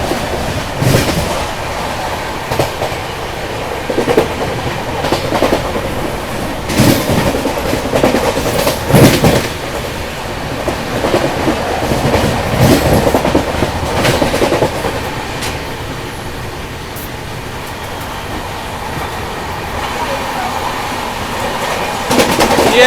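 The Vikramshila Express rolls past the Barmer Guwahati Express as it overtakes it, with a loud, steady rumble of rail travel and repeated clickety-clack wheel beats from start to finish.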